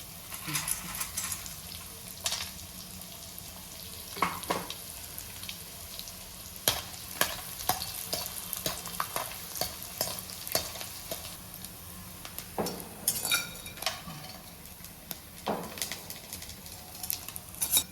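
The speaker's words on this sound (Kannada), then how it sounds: "ಈಗ ತುಪ್ಪ ಕಾಯ್ದಿದೆ, ಅಂಟನ್ನು ಸ್ವಲ್ಪ ಸ್ವಲ್ಪ ಹಾಕಿ ಚೆನ್ನಾಗಿ ಹುರ್ಕೋಬೇಕು" Edible gum pieces frying in hot ghee while laddu ingredients are prepared, a steady close sizzle broken by scattered crackles and pops and occasional scraping stirs of a ladle against the pan, with no talking.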